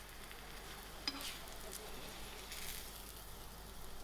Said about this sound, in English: These thinner slices of brinjal is fried.